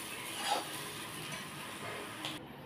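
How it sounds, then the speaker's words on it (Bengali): Potato and yardlong bean fry with poppy seeds is stirred in a pan, giving a faint, steady sizzle with soft scraping and an occasional light clink, with no one speaking. "এইবার আমি এর মধ্যে যে 1 চামচ পোস্তদানা রেখেছিলাম এইটা এবার আমি এর মধ্যে ছিটিয়ে দিচ্ছি। দিয়ে আমি একটুখানি ভালো করে নেড়ে নেব।"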